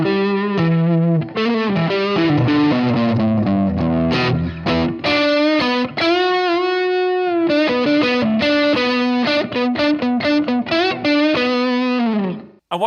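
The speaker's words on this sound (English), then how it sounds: "And then we've got an affordable reverb." Electric guitar played through a Blackstar Debut 50R amp with its built-in reverb, loud sustained chords and melodic lines with a lush, lingering tail, played alone without talk.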